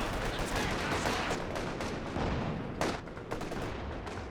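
Heavy mortar and gunfire in the video game Company of Heroes 2 during a 2v2 battle, a dense continuous rumble of distant shots and explosions with a sharper crack near the middle.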